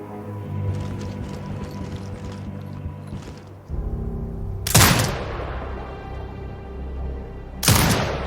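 Sentry turret firing in the video game Sniper Ghost Warrior Contracts 2: two sharp, loud gunshot bursts a few seconds apart, each ringing out with a long decaying tail over a steady game ambience.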